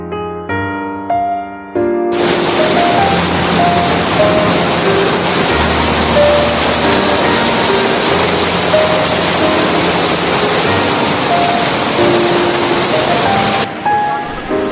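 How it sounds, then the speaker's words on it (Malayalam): A small waterfall pours in a steady, loud broadband rush that fills the scene, with tonal musical notes playing over it at the start and end. "ഇത് വലിയൊരു വെള്ളച്ചാട്ടം എന്നൊന്നും നമുക്ക് പറയാൻ പറ്റില്ല കേട്ടോ"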